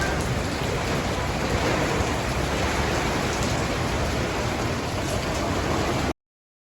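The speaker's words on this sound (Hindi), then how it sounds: "अब मॉर्निंग में आज उठते ही बारिश बहुत तेज़ आ रही थी और इसका नज़ारा आप भी ले सकते हैं।" Heavy morning rain pours down steadily, a dense, loud, continuous hiss with no breaks and no voices, close and filling the whole clip.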